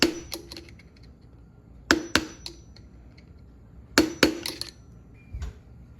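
Metal locking tabs on a Shovelhead motorcycle clutch being flattened with a hammer, heard as sharp close metallic strikes in pairs and small clusters with pauses between them.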